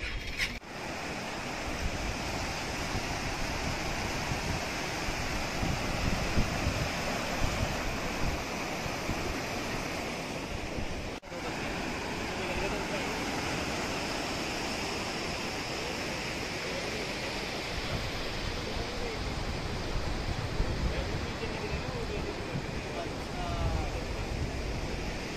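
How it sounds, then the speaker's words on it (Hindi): A swollen river in flood rushes past beside a collapsed bridge in a village in the UK, a loud, unbroken roar of churning water mixed with wind buffeting the microphone throughout. "ये नदी पूरी खाली हुआ करती थी, अभी देखिए उफान"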